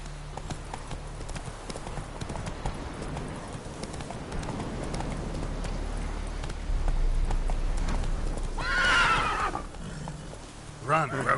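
Roach the horse gallops in The Witcher 3, with rapid steady hoofbeats under a low rumble and a sharp whinny near the end, while someone talks over it.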